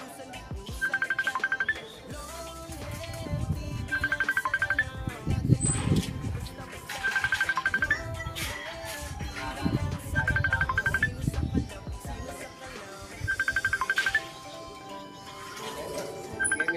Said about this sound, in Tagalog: O, may tumatawag, saglit lang.